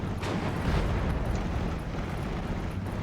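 A bazooka is fired in the Steel Division Normandy 44 video game, and a dense, rumbling low boom follows with brief bursts of crackle on top.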